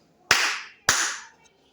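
Two sharp, close hand claps about half a second apart, each followed by a short ringing decay, then quiet.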